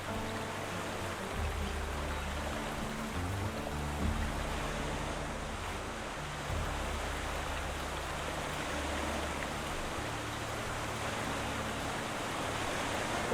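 A waterfall in the WolfQuest wilderness roars as a steady, broadband rush of falling water, constant and fairly loud with no pauses.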